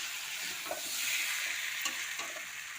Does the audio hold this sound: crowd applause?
no